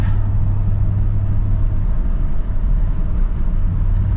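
A square-body truck engine with a sticking throttle pedal and a non-working four-barrel carburetor runs loud and steady up close, a continuous low rumble that holds its level with one brief dip.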